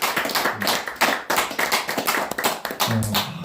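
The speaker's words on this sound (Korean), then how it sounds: "박수 한번 보내주시기 바랍니다." Applause from an audience at a lecture, a steady wash of many hands clapping close by for the whole stretch, no voices over it.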